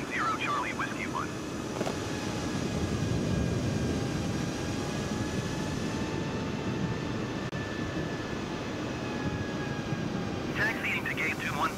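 Steady jet engine whine and rumble of an Air India A320 taxiing in Microsoft Flight Simulator 2020, a continuous loud drone with faint higher tones, alone throughout.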